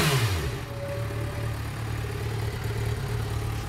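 A Yamaha XJ6 motorcycle engine revs up sharply at the start, then settles into a steady mid-pitched running drone close by, with no voices over it.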